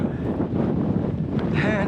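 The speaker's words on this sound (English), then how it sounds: "it is windy" Strong wind roars and buffets the microphone in a steady, rumbling rush throughout, on a cliff-edge path of the Skye Trail in Scotland.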